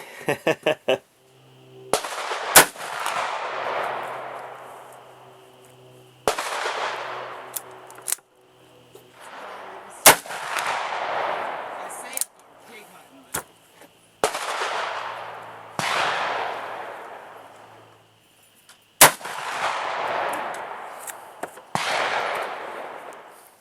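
Repeated loud gunshots from a Ruger Super Redhawk revolver chambered in 454 Casull. Sharp, powerful reports land every few seconds, roughly seven shots in all, each followed by a rolling echo decay, with quiet gaps between them.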